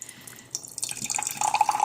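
Liquid poured out of a mason jar fitted as a cup with a loosely tightened lid, a close splashing trickle that builds into a steady bubbling stream, with no talk.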